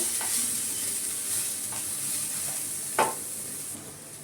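Ginger garlic paste and chili flakes frying in a pan for an evening snack, with a constant hissing sizzle and a few brief spatula scrapes and clinks, one sharper knock near the end.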